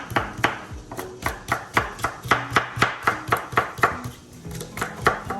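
A knife chops through vegetables for cucumber kimchi on a cutting board, sharp regular strokes about three per second, close and steady with no talking.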